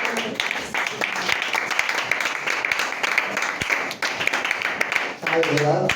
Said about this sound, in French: Acclamons très très très fort